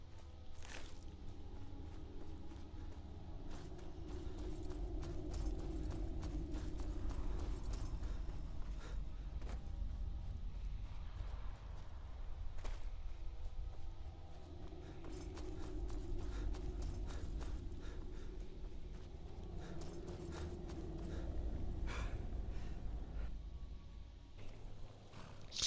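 Horse hooves clip-clopping in the video game Skyrim, a steady walking rhythm of soft thuds over a constant low ambient drone of wind and music, with no talking.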